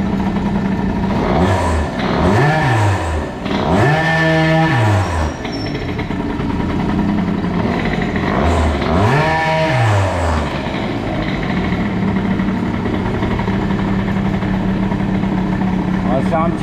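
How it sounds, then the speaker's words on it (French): An engine runs at idle while its idle speed is turned down, giving a steady mid-range drone with a few rising and falling swells in pitch, close and fairly loud, with a voice talking over it. "Je vais baisser un peu le ralenti."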